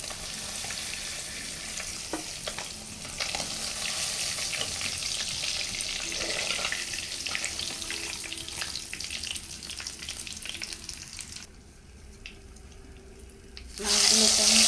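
Swarnaputi fish fry in a pan with a continuous hissing sizzle. It drops to a quieter simmer near the end before surging loudly again.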